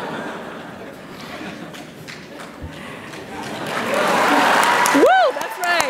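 A commencement crowd claps at a university graduation ceremony, the clapping mixed with chatter and a few laughs, swelling louder toward the end as cheers and whoops rise over it.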